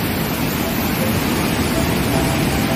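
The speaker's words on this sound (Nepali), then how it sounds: "पानी मजाले झर्दैछ यहाँनिर फल्समा" Jhakri waterfall near Gangtok, Sikkim, pouring down as a loud, steady, broadband rush of falling water close by, continuous and unbroken with no talk over it.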